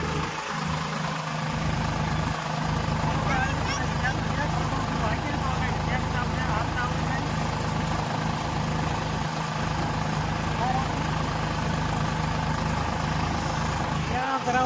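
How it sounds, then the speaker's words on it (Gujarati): A heavy engine drones continuously at close range, rumbling low and steady, with indistinct voices talking over it at times. "પ્રવીણભાઈ ડ્રાઈવરે ટ્રેક્ટર વેતો કર્યું છે"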